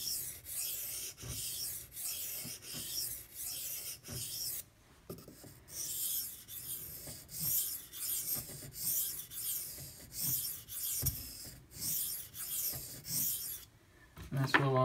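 A Spyderco Autonomy 2 knife is sharpened on an Imanishi whetstone with slurry, giving a steady rhythm of close, gritty back-and-forth scraping strokes with no talk.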